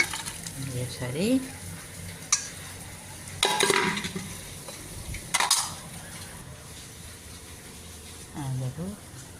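Chana dal fries and is stirred in a pan, with a spoon scraping and knocking against the metal over a soft sizzle while someone talks at times.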